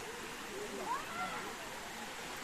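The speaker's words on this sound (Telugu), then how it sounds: "ఆ వాటర్ ఫాల్ సౌండ్ ఉంటుంటే ఎంత ప్రశాంతంగా ఉంటుందో." Ananthagiri waterfall near Araku roars as a steady broadband rush of falling water, constant and fairly loud throughout, with faint voices in the background.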